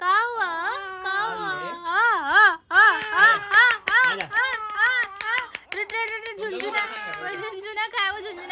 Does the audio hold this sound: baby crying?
yes